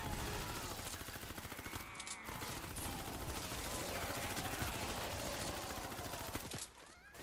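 Rapid bursts of Silenced Specter SMG fire in Fortnite Save the World, dense and continuous across nearly the whole stretch, with brief gaps near the middle and end.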